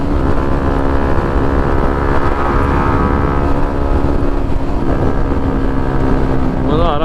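Hero Xtreme 125R motorcycle cruising on a highway, a constant loud engine drone with heavy wind buffeting the microphone, unbroken throughout.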